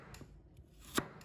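A knife chops carrot into strips on a board, a few quick, quiet cuts spread over about a second and the last ones louder, with no voices.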